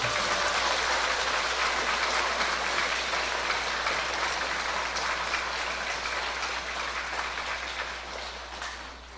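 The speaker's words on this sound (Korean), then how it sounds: "크게 다시 한번 박수 한번 주시면 좋겠습니다." A church congregation at an Easter Vigil Mass applauds, a dense, even wash of many hands clapping heard from a distance, steady throughout and slowly fading toward the end over a low hum.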